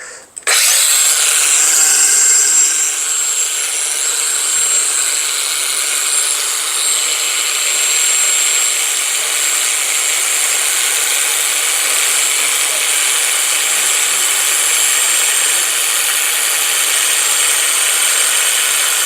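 A Bosch cordless angle grinder spins up with a sharp start and then runs at full speed with a continuous, loud, steady high whine for nearly twenty seconds, heard alone without talk.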